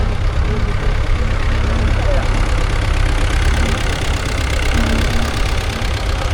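A vintage Ferguson tractor with a petrol-paraffin engine running steadily in a festival arena, a loud continuous low throb close by that stays even in pitch, with no voices over it.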